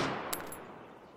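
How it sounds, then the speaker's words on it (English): A single suppressed gunshot from a weapon in the video game Road to Vostok gives a short, beefy crack with a brief decaying tail, close and fairly loud. "That was a suppressor. It's very beefy sounding."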